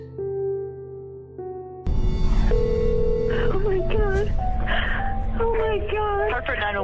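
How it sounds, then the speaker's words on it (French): A telephone dialing 911 in an emergency: steady tones sound at first, then a busy line with a connection and a voice on the call, under talk. "elle attrape son téléphone et compose le 911"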